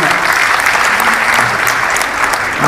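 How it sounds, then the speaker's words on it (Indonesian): Loud, continuous applause from a seated audience at an Indonesian investment seminar, a dense even patter of clapping close by with no speech over it. "Tepuk tangan lagi buat Mas Arjanto."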